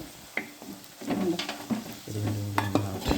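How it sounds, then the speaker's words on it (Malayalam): Spice powders are sautéed with onions in a pan for Kerala-style fish mappas, with a light sizzle and intermittent utensil scrapes and clinks against the pan. "ഇനി നമ്മൾ പൊടി ഇട്ടിട്ട് നന്നായിട്ട് തന്നെ ഒന്ന് മൂപ്പിച്ചെടുക്കുക."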